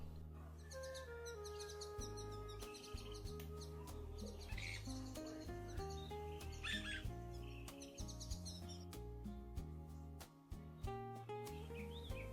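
A thrush sings outdoors in Jamaica, quick bright chirps and short phrases repeating at intervals, fairly faint over a backdrop of steady low music tones.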